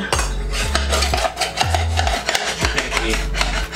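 A knife saws through a bunch of grape tomatoes on a wooden board. Several rough back-and-forth rasping strokes are spaced in a loose rhythm, close and clear, with no talking.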